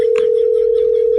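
Steady unbroken electronic tone on a phone line after a call is cut off, loud and close for the whole moment, with faint background noise beneath it.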